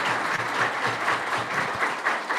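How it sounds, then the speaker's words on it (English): Applause from an audience at a club meeting, a steady, fairly loud patter of many hands clapping with no voices over it. "let's have a round of applause for Kim and Bob"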